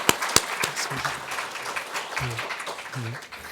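A church congregation claps during a Sunday worship service to welcome newcomers, a few sharp claps at the start followed by a soft, scattered patter under someone speaking.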